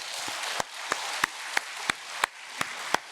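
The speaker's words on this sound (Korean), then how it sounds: "크게 박수 한번 해요" A church congregation at a Sunday service claps, with a steady run of distinct, evenly spaced claps about three per second standing out over a soft, continuous wash of scattered hand noise.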